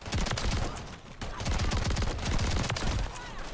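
A player firing a gun in Call of Duty MW3, a dense run of rapid, punchy shots close up, pausing briefly near the one-second mark and then resuming, sustained and loud throughout.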